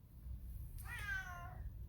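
A pet male cat named Sam gives a single drawn-out meow down near the floor, soft and fairly quiet, with no talking around it.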